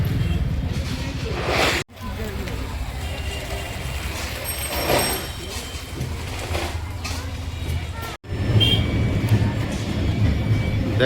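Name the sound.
train arriving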